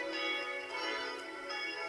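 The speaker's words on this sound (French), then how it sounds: "Donc ici vous voyez les cloches 1 et 2 ici." Church bells of a Sainte-Marie church ring with a sustained, layered metallic tone, several overlapping bells sounding steadily at moderate to faint level, with no voices.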